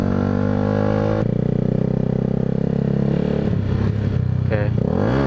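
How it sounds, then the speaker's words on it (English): A Yamaha R125 motorcycle revs hard and loud up close as the rider tries wheelies on a busy street, the engine note holding steady then dropping and surging again near the end. "See if I can do a few cheeky wheelies."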